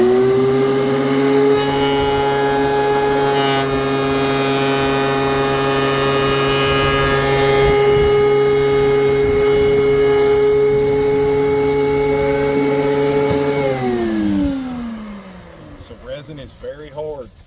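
A thickness planer grinds steadily through a hard epoxy resin piece, a loud sustained droning whine that winds down at the end, followed by faint talking.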